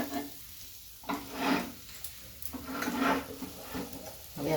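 Butter and masala are spread and mixed over a sooji dosa on a hot griddle, with soft scraping strokes and a steady low sizzle in irregular bursts, close and moderately loud, with no talking.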